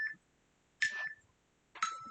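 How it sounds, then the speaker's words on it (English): Electronic workout interval timer during a core exercise session gives three short tonal beeps, evenly spaced about a second apart, clear and close with nothing else around them. "You'll hear the timer."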